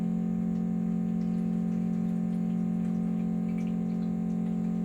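A DCS water dispenser pump hums steadily as it draws water, a loud continuous low drone with faint ticking and trickling on top, with no talk over it.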